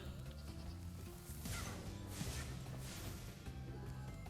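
Sheep bleat in the Spyro video game, several wavering calls over a low droning music bed, faint and fairly close, spread across the middle of the short stretch.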